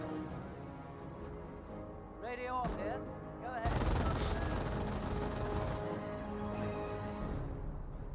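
A German MG42 machine gun rattles in sustained bursts against a British Bren carrier in the strategy game Company of Heroes, a dense, steady chatter of fire mixed with battle noise and faint voices.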